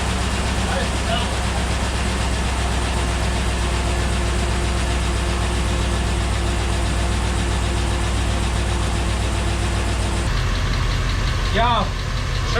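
The V8 engine of a 2006 Chevrolet Silverado running steadily just after being started, a loud close idle rumble that continues throughout while excited people talk and shout over it.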